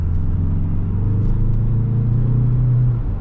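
Citroen C5 with a 2.0-litre 163 HP engine, heard while driving: a steady, low engine drone and road rumble from inside the car, holding an even level throughout without any talking.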